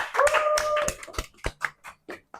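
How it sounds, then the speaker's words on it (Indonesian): A voice speaks briefly, then a run of sharp, separate hand claps follows at a university student event, irregular and fairly close, more like a few people clapping than a full crowd. "Tepuk tangan dulu semuanya."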